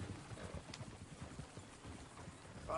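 Horse hooves clip-clop steadily in the Red Dead Redemption 2 video game, a fairly quiet rhythmic patter of hoofbeats with game background sound and no talking.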